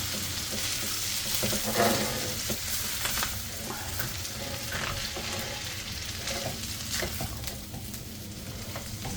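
Spicy chorizo pork frying in a well-used pot while being stirred, a continuous close sizzle with repeated scraping and shuffling of the meat throughout.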